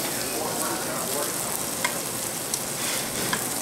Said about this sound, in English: I'm just going to put it in the hot pan on one side. I'm going to sear it.